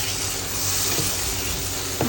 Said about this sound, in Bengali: মশলাটা অনেকক্ষণ কষিয়ে নিব